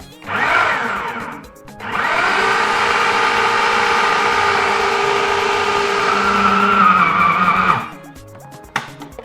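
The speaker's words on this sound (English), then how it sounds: "So I pulse it first to break it down a bit." A kitchen blender pulses egusi seeds for pepper soup, a loud steady motor whir running about six seconds after a short opening burst, then cutting off.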